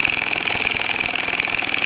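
A small Luton Bowman steam engine with a weighty disc crank runs steadily, giving a dense, even mechanical churn and hiss with a fast regular chuff, close and fairly loud, without speech.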